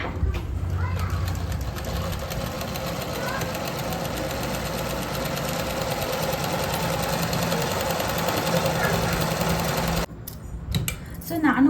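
A new tailoring sewing machine stitches in a fast, steady mechanical whir for about ten seconds, then stops abruptly, leaving a few brief knocks and handling sounds.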